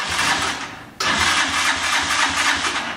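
A motor tricycle with a flat battery being cranked without catching: a loud, continuous mechanical churning that cuts off briefly, then resumes and runs on. No voices.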